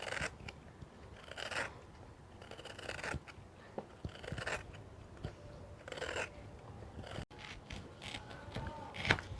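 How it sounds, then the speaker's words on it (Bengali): A knife cuts a raw sweet mango in bursts of crisp slicing and scraping, close up, with short pauses between strokes and no talking. "তা চলুন কাটে যাক কাঁচা মিঠা আমটা।"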